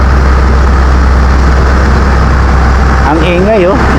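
Loud, steady engine drone from a road roller working on a road concreting job, a constant low rumble holding throughout with a voice briefly talking over it near the end.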